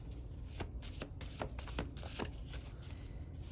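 A deck of tarot or oracle cards is shuffled by hand in a steady stream of soft riffling and flicking close to the listener, continuous for a few seconds with no talking.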